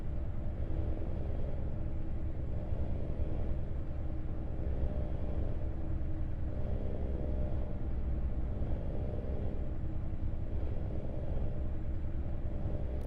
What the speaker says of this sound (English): Yeah, that's why I have mods for the truck sounds.